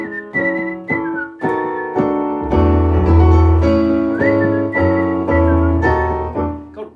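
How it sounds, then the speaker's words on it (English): Someone whistles a melodic tune, clear and close, with short phrases and sustained notes, no talking. "whistling is really hard when you've been talking."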